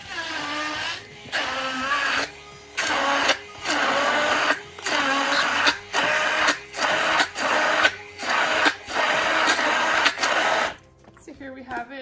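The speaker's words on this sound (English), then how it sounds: "we're gonna blend it into a puree and a chunky puree" A blender purees creamy chicken taco soup ingredients into a chunky mix, running in about ten loud, close pulses with brief gaps between them, then stopping.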